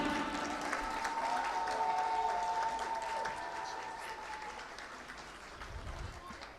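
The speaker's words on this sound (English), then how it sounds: "Please give a big round of applause to our graduating class of" Sustained applause from a crowd for a graduating high school class of 2021 at a graduation ceremony, steady clapping throughout that fades slightly toward the end, with some voices in the background.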